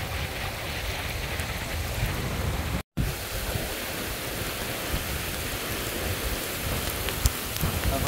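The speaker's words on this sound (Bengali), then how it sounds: "প্রচুর বৃষ্টি হচ্ছে" Heavy rain pours outdoors near a riverside fishing spot, a dense, loud, unbroken hiss of drops with one brief cut, and no voices.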